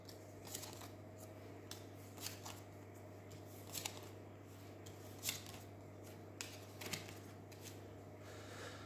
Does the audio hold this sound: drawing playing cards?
yes